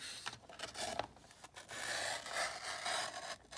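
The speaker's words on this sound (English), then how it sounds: "Sometimes a trimmer doesn't do so well with all these layers." A paper trimmer slicing through stacked craft paper layers, with close, uneven rasping and scraping strokes interrupted by brief pauses, quiet and alone.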